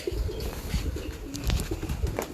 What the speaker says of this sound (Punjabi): ਚਲੋ ਆਓ ਫਿਰ ਉੱਡੇ ਕਬੂਤਰ ਵੀ ਦੇਖੀਏ।